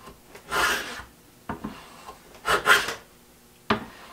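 A hand tool takes light smoothing passes over a walnut ring box, several soft rasping strokes in uneven bursts with quiet pauses between them, close and fairly faint.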